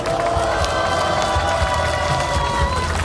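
A crowd at an outdoor political rally in Korea applauds and cheers in a dense, continuous roar of clapping and voices that holds steady throughout.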